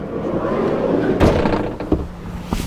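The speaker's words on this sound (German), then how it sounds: "So, wir machen am besten mal die Tür zu." The door of a Kabe Affinity camper van swings shut with one solid thud, followed by a couple of smaller knocks and rattles against a steady background hum.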